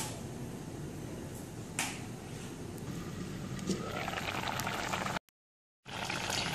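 An okra curry bubbles in a pot, a steady close crackle and pop of thickened liquid simmering, with small spits and one sharp snap, cut by a brief gap of silence near the end.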